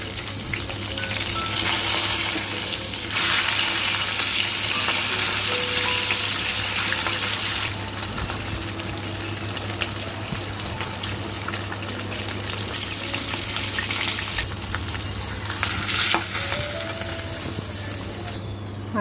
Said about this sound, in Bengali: কড়াইয়ে সর্ষের তেল দিয়ে মাছগুলোকে ভালোভাবে ভেজে নেব।